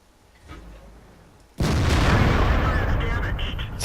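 A Hummel self-propelled artillery gun fires in World of Tanks, a sudden loud blast that rolls into a sustained, roaring rumble after a quieter stretch of faint background.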